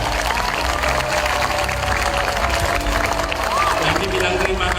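Children applaud for their mothers at a school free-meal program event, a dense continuous wash of clapping from a crowd, with some voices and movement mixed in throughout.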